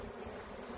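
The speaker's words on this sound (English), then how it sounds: "shake all of these bees out" Honey bees buzzing in a dense, steady drone as a colony is shaken out of an old hive into a new box, close and continuous with no talk.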